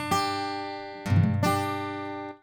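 A beginner's badly fretted guitar chord, strummed twice in quick succession, some strings ringing clearly while the middle ones sound dull and muted; close and moderately loud, fading out after a couple of seconds with no talk.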